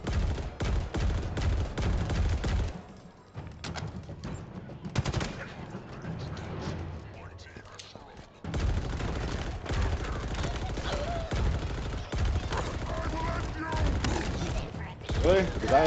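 Sniper rifle fire in Halo Infinite, dense bursts of loud gunfire and game effects running through most of the stretch, with a quieter lull in the middle and talk over the action.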